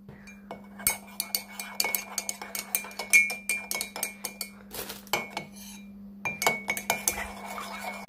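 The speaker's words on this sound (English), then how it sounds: "Give it a little mix. I'll do it with a baby knife." A small knife stirs a mixture in a container, making quick, close metallic clinks and scrapes in irregular bursts, with a couple of short pauses between rounds of stirring.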